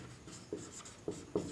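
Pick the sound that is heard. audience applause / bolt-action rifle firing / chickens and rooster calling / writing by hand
writing by hand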